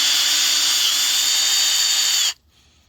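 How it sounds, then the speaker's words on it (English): A power drill bores a hole through plastic for a boat ladder standoff, a loud, steady high whine held for about two seconds before stopping abruptly into quiet. "I'm going to drill this out"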